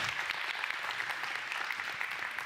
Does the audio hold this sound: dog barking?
no